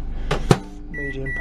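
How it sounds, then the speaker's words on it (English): An old microwave oven warming up a meal gives a sharp clunk, then a low running hum, followed by a couple of short electronic beeps close by. "we're going to put it in the old microwave and warm it up"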